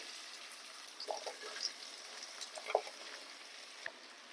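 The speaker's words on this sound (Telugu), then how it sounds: "ఇప్పుడు కట్ చేసుకున్న బీరకాయ ముక్కలను వేసుకోవాలి" Cut ridge gourd pieces drop into a pan of cooked-down tomato and onion, giving a faint, soft sizzle with a few small pops and clatters.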